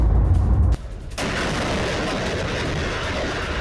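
Rocket artillery from a multiple launch rocket system strikes in a war zone, a loud close blast followed by a sustained roaring rumble that fills the rest of the moment, with no voices.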